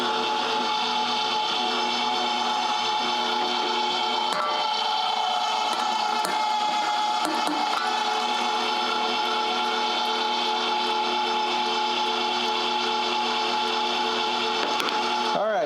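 A Meat! Your Maker electric meat grinder runs steadily while grinding meat, a loud continuous motor whine with a dense hum that holds unbroken throughout.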